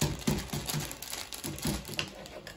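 Starch powder is poured from a paper packet into a bowl to make a non-Newtonian fluid. A soft, close rustling hiss comes in uneven bursts as the packet crinkles.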